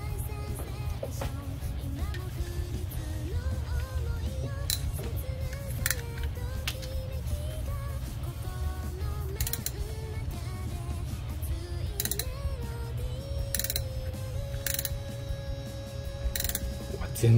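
Rocker cover bolts on a Husqvarna FE250 engine are tightened with a torque wrench, giving steady mechanical ratcheting and creaking throughout with low rumbling underneath and a few sharper clicks near the end.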